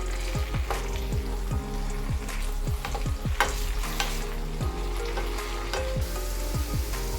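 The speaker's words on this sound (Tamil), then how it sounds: "இப்போ போட்டுட்டே இப்போ ஃப்ரை பண்ணுறேன்." Potato fries frying in hot oil, a steady close sizzle broken by repeated rhythmic stirring strokes through the pan, with no talk.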